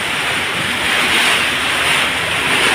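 Floodwater from typhoon Opong that has come into a house. It makes a steady, loud rush of wind and water, with broad noise and no breaks, and no voices.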